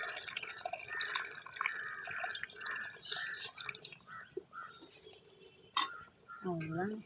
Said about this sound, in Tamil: நல்லா கொதிக்குது, நீ புளிக்கரைசல் ஊற்றிக்கலாம்.